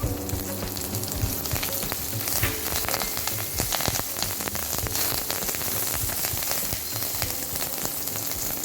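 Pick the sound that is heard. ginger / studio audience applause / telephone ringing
ginger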